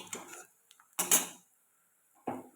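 Fried pumpkin flower fritters made with sun-dried rice flour are lifted from a pan in a village kitchen, with a few distinct metallic clinks and scrapes of utensil on pan, separated by quiet.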